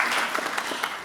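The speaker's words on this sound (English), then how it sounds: "I think that warrants some applause." Audience applause at a film festival awards ceremony, a steady brief wash of clapping from a crowd with a few sharper individual claps standing out.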